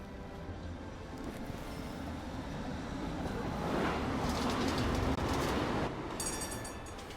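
A tram pulls in within the Syberia The World Before video game, a steady low rumble of rolling wheels that swells louder toward the middle and then eases off, with a brief metallic rattle near the end.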